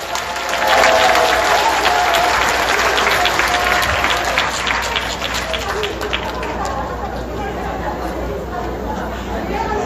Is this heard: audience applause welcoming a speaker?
yes